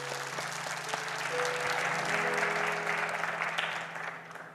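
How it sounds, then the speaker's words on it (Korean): A church congregation at a prayer rally applauding a pastor, a moderate, even spread of clapping that swells slightly and holds steady over a low sustained organ-like hum, tapering at the end. "우리 목사님께 박수로 감사 표시 한번 하겠습니다."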